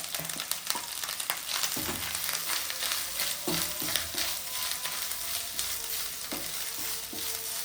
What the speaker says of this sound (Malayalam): കടുക് പൊട്ടി കഴിഞ്ഞിട്ടുണ്ടെങ്കിൽ ഇനി നമുക്ക് ഇതിലേക്ക് കുറച്ച് തേങ്ങ ഇട്ട് കൊടുക്കാം